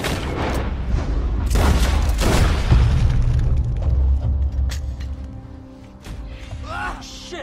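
Gunfire in the Red Dead Redemption 2 video game, heavy booming shots and bursts with low rumble over the first few seconds, then fading into quieter ambience.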